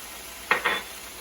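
Meat and carrots searing in a pot for a Guinness stew: two quick, close stirring scrapes over a faint sizzle, with no talking.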